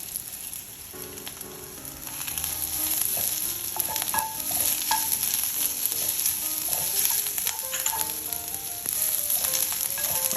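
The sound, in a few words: garlic and shallot frying in a pan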